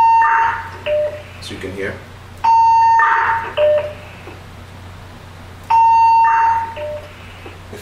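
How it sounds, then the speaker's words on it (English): A short electronic radio repeater beep sounds three times at regular intervals, each followed by someone speaking briefly over talk-through repeater, with a low background hum. "We add a beep at the end so that we know that we are in talk through repeater"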